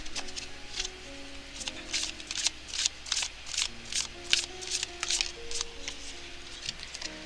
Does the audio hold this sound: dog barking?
no